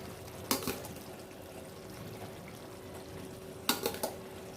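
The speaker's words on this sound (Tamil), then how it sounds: "நம்ம வந்து வேக வச்சுருக்க அரிசியை இப்போ போட்டுடலாம்" Parboiled rice is tipped into a cooking pot for chicken pulao in two short, rustling pours a few seconds apart, with a quiet background in between.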